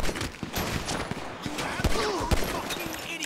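A short burst of gunfire in GTA Online during a Chop Shop gangbanger robbery mission, scattered cracks and a couple of sharper shots over a busy game background.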